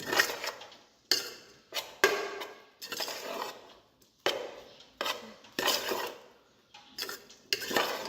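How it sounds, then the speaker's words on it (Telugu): Spicy gravy being mixed into Kurnool-style uggani in a pan, heard as repeated bursts of a utensil scraping and clinking against the metal, close and fairly loud, with short pauses between strokes and no talk. "దీంట్లో వేసేసి ఇప్పుడు దీన్ని ఇలా మిక్స్ చేస్తున్నాను చూడండి"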